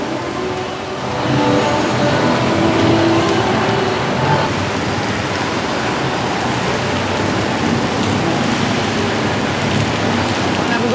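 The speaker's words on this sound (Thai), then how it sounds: "บรรยากาศกับฝนตกพี่น้องเอ้ย" Heavy rain pours at the Pathumwan intersection beside the art centre in Bangkok, a dense, unbroken hiss that swells after the first second and holds steady, with faint traffic beneath.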